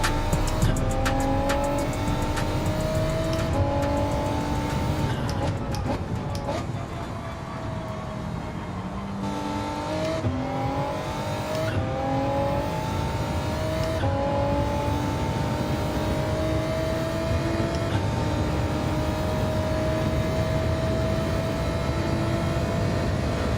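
Race car engine in Gran Turismo 7, loud and continuous, revving up and down through gear changes with a steady mechanical drone and occasional tire squeal.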